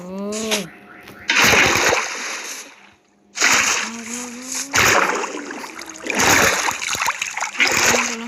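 Bursts of splashing water in Minecraft Pocket Edition come in several loud surges, broken by short gaps, with game-like tonal effects and a voice speaking briefly between them.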